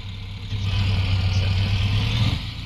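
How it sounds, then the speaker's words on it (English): A loud truck engine in a trucking simulator game swells up and holds a steady, deep droning rumble, then drops off near the end, with no talking. "Because Blitz's truck is very loud."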